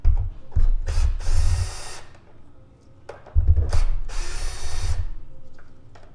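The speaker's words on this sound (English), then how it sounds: "I'm going to use battery powered ratchet." A battery-powered ratchet spins out bolts on a Cadillac SRX engine during spark plug and ignition coil work, with two loud close whirring bursts, each about two seconds long, separated by a short pause and no talking.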